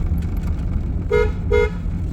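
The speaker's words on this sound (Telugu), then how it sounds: "స్లో హార్న్ కొట్టచ్చు" A car horn gives two short toots over a steady engine rumble.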